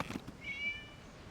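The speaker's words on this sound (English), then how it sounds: "It was just a cat." A single short, high cat meow, thin and slightly distant, follows a couple of soft thumps against a quiet background, in the video game Genshin Impact.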